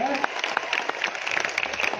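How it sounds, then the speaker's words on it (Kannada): An audience at a gathering of farmer leaders breaks into clapping, a dense patter of many hands at moderate distance, steady and lively for a couple of seconds. "ಅವ್ರಿಗೆ ಜೋರಾಗಿ ಒಂದು ಚಪ್ಪಾಳೆ"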